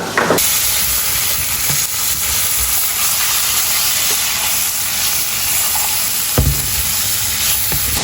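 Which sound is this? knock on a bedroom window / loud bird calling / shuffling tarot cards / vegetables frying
vegetables frying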